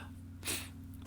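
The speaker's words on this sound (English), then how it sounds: "I'm going to sneeze." A person sneezes once, a short sharp burst of breath standing out briefly from a quiet indoor background.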